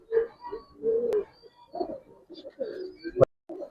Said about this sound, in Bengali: আজকে কালদমে কিছু কবুতর দেখতে পাচ্ছেন